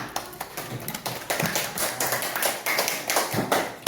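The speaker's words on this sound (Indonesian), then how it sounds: "Tepuk tangan." A classroom of students clapping hands during a lesson, a sharp, uneven patter of individual claps with distinct hits standing out, fairly close and without talk.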